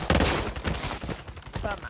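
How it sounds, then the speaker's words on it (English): Rapid gunfire from a Warzone 3 firefight, several sharp cracks in quick succession over a dense, loud game mix with a voice talking throughout. "They're sniping at me."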